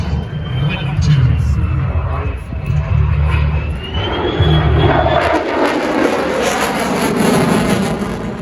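A jet engine roars at the Blue Angels homecoming airshow, a loud sustained rushing roar that builds and brightens as the aircraft nears, with an announcer talking over the noise.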